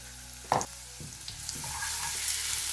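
Fresh garlic sizzles in about three tablespoons of oil for pizza sauce, a steady close hiss with a sharp clatter near the start and a few soft knocks, without speech.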